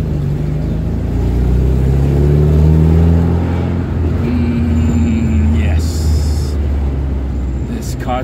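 A 40-year-old 1979 Alfa Romeo Alfetta 2.0 with a 2-liter four-cylinder engine revs steadily close by, its pitch rising and falling through several sustained tones, with someone talking over it.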